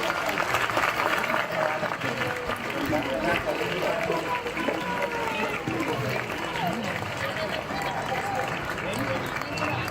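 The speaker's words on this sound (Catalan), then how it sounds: "us demanem un fort aplaudiment per tothom que ha vingut a la plaça a llegir" Crowd applause at a street protest demanding the reopening of the Can Casacuberta library in Badalona, a steady dense clapping that fills the full ten seconds at even loudness.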